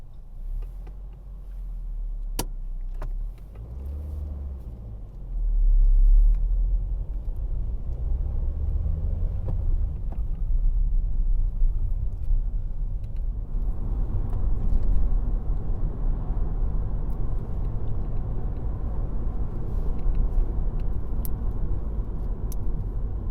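A car pulling away during a driving test in Bletchley, its engine a low steady rumble heard from inside the cabin, rising slightly as it moves off and holding a constant drone, with a brief clink of keys early on.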